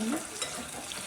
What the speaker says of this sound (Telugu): ఇప్పుడు అదే గిన్నెలో కొంచెం ఆయిల్ వేసుకొని చికెన్ అనేది కూడా మంచిగా ఫ్రై చేసుకుంటాము.